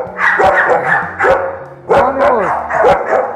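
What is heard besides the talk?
aggressive dog barking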